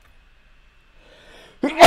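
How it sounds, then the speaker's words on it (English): A single sharp, loud sneeze bursts out close to the mic at the end after a near-silent build-up, from a man livestreaming a game. "I gotta sneeze."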